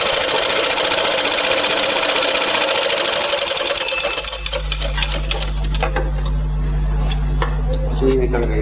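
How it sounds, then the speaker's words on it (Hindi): A sewing machine topstitches a strip on a blouse, a fast, loud, even mechanical whir for about four seconds before stopping, followed by a low hum and scattered light clicks and taps. "पट्टी के ऊपर हम दाब सिलाई डाल देते हैं"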